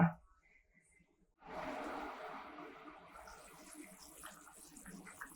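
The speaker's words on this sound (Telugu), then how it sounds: "చూసారు కదా మనకి నీళ్లు ఎలా ఆగుతున్నాయో ఇలా నీళ్లు మరుగుతున్నప్పుడు" Salted water boils in a lidded pot while upma is prepared, a faint hiss that swells after a brief silence into steady, close bubbling and rumbling.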